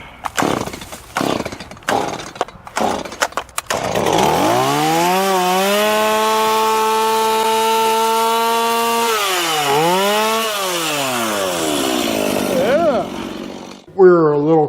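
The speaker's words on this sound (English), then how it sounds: "Jerry got to fire up his chainsaw." A chainsaw clearing overgrowth starts after several rough pull-start rattles, then runs at a loud, steady high whine, dips briefly as it bogs down, revs back up and cuts off near the end.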